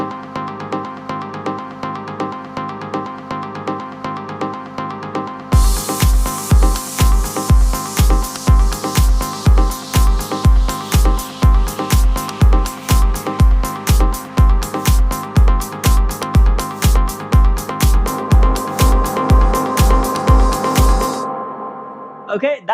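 On a Pioneer CDJ, a loop cut in half to 1.5 bars repeats as a tight, pounding stutter of kick hits and bright bursts over sustained tones, loud and rapid before stopping abruptly near the end; no speech.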